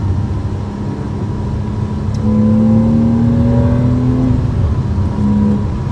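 Porsche Cayman accelerating on the road: a loud engine drone builds as the revs climb in a rising pitch, then eases back and climbs again near the end, heard from close up with no talking.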